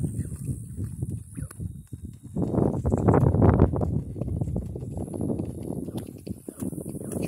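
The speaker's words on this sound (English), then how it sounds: "And now trot your horse." Muffled hoofbeats of a horse trotting bareback thud in a steady rhythm over dirt, growing louder midway, with faint wind in the background.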